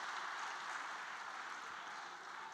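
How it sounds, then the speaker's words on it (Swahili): An audience claps steadily for the Young Africans club leader, a fairly faint, dense wash of applause with no voices. "naomba sote kwa pamoja tumpigie makofi kwa uongozi wake mzuri sana ambao ameufanya kutoka alipoingia mpaka sasa"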